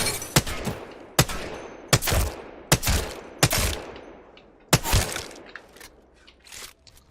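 Sharp gunshots ring out in Apex Legends aim practice, six or seven crisp single cracks spaced about a second apart, each trailing a short echoing tail, with no talk.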